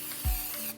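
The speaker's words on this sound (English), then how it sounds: "I'm going to spray it" Cooking spray sprayed generously into a 9 by 13 baking dish, a single short hiss burst up close, lasting well under a second, with no talking.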